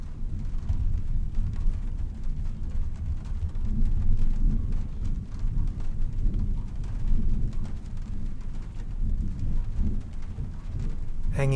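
Steady rain and low rolling thunder from a storm outside in Trüberbrook continue as a dense, constant rumbling wash, with no voices.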